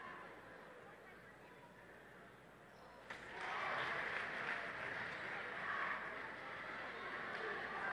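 A basketball crowd cheers and applauds at an O'Fallon Althoff high school game, the noise swelling suddenly partway through and holding as a loud sustained roar beneath a commentator's voice.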